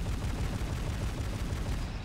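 An M19 anti-aircraft gun in Men of War: Assault Squad 2 fires a dense, continuous burst of booming rapid shots that fills the whole moment, loud and close, with no talking.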